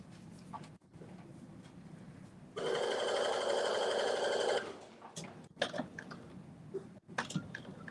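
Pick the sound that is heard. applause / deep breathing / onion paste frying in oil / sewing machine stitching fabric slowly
sewing machine stitching fabric slowly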